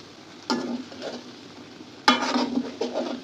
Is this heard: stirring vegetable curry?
yes